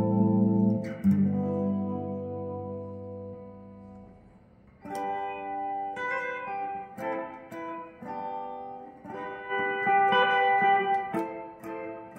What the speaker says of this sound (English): really serviceable room reverb